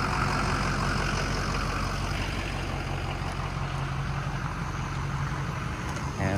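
A 2006 Ford F-250 Lariat with a 6.0L Powerstroke diesel and 180k miles runs steadily, its low, even engine drone holding at close range with no speech over it.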